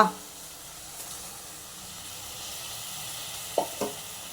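Rice goes into a pan for vegetable biryani and is stirred, giving a soft, steady sizzle with a couple of brief scraping knocks near the end.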